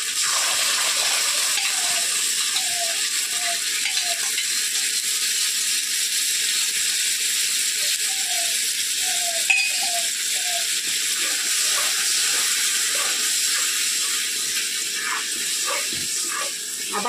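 Masala spices fry in a pan for doi katla, a yogurt curry of rohu fish, with a steady bright sizzle and scattered scraping clicks from stirring throughout.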